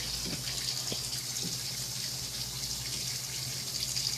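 Water pours and splashes steadily while clothes are washed by hand, making a constant gushing flow with a few faint knocks.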